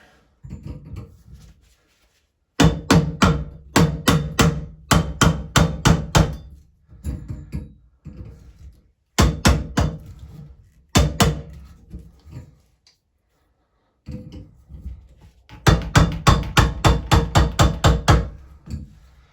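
Light tapping on a clamped Pfister shower cartridge to work it loose, bursts of rapid sharp metallic taps in quick clusters separated by short pauses, close and fairly loud with no talking.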